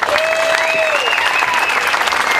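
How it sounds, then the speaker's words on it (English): Loud, dense round of clapping from a crowd at a motorcycle ride rally, continuous throughout with a couple of whistles rising above it. "Round of applause for them for their help."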